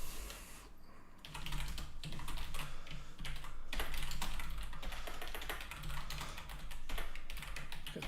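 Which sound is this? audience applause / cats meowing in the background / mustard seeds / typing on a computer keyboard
typing on a computer keyboard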